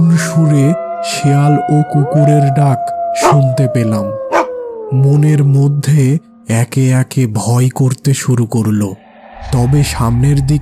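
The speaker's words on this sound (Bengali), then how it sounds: "দুই পাশ থেকে করুণ সুরে শেয়াল ও কুকুরের ডাক শুনতে পেলাম।" Cartoon-style jackals and dogs howl mournfully in a long, wavering tone under steady narration, with the howl sustained behind the voice for most of the stretch.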